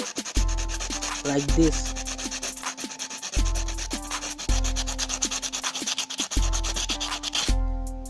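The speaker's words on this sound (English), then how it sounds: "Here you can just rub the upper surface" Sandpaper scrubbing the surface of an old, rusty spark plug in steady back-and-forth strokes, close and fairly loud, in rhythmic bursts with brief pauses and a quiet word spoken once.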